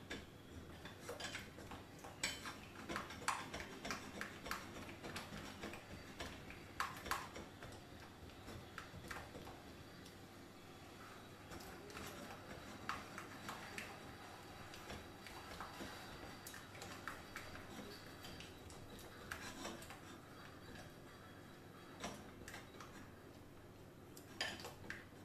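Spoon scraping and clinking around a bowl while stirring melted white chocolate, a steady run of light ticking taps and scrapes at moderate level without speech.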